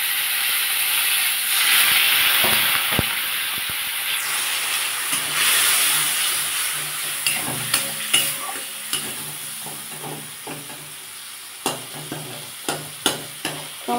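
Spices and tomatoes for a rohu fish curry frying in a pan, giving a steady sizzling hiss with steam, and later a run of sharp scraping and tapping knocks from stirring, close and without talk.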